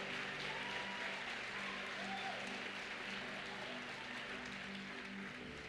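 A church congregation applauds in a continuous, steady wash of many hands clapping during a Sunday morning service, fairly distant and sustained throughout, with a faint murmur of voices beneath.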